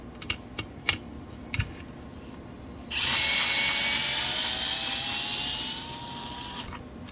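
Powered screwdriver or small drill backing out a screw on a TAPP hybrid GHK G5 lower, a close whirring buzz of about four seconds after a few light clicks and taps.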